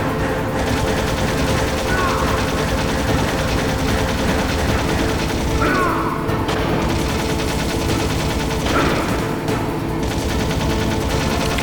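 Continuous gunfire and explosive bursts from the Metal Gear Solid boss battle against Metal Gear Rex and Liquid Snake on PlayStation, loud and dense throughout with layered game effects and some speech over it.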